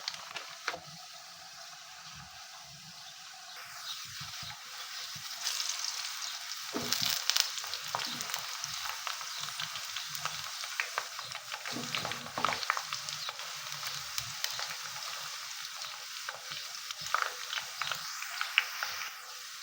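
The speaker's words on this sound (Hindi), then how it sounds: "प्याज हमारे हो रहे हैं फ्राई" Sliced onions frying in hot oil, a steady hissing sizzle with occasional crackles and stirring sounds that grows slightly louder partway through, heard alone with no talking.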